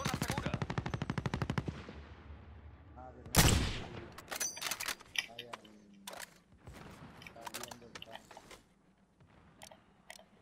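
Machine gun fire erupts in Call of Duty Modern Warfare Warzone, a rapid close burst followed by scattered sharp shots and clicks, with a voice talking between them.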